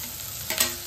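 Spices and chopped chillies fry on a low flame in a pan for chicken curry, giving a short, steady sizzle with a brief stirring scrape.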